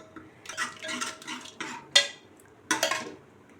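A metal ladle mashes cooked brinjal and tomato in a pot, giving a series of close scraping and clinking strokes in irregular bursts, with two sharper knocks near the end and no voices.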